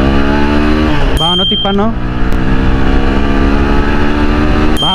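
A car accelerates hard, its engine rising in pitch, dropping briefly as it shifts up into third gear, then climbing again, loud and close, while a man calls out speed numbers over it.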